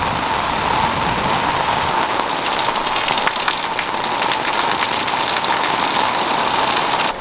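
A rainstorm drums steadily on the roof and sides of a camper at a campground in Erie, PA, a dense, continuous patter with an engine-like low hum underneath.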